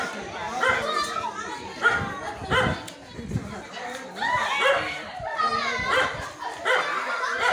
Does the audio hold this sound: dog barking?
yes